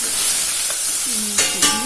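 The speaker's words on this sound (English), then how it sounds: "I'm going to fry this grated apples" Grated royal red apples hit a hot pan and sizzle with a close, steady hiss, broken near the end by a couple of sharper scraping stirs.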